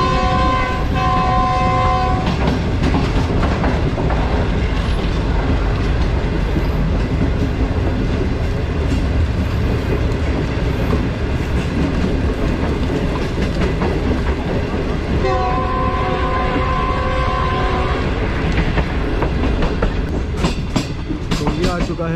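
The Green Line Express runs at steady speed across the Mahi River bridge, a continuous rumble and clatter of passenger coaches, with the train horn sounding at the start and again around the middle.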